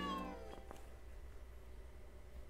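A cartoon cat meows once, loud and clear at the start, in the video game Jingle Cats, then fades into quiet background music.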